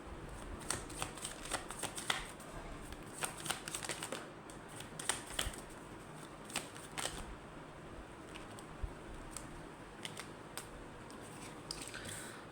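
Tarot cards being shuffled by hand, a quick run of crisp riffling flicks and soft card slaps close by, bunched in bursts with short pauses and no talking.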